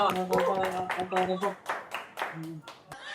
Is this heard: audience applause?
yes